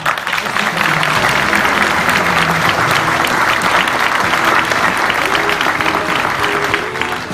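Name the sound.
audience applause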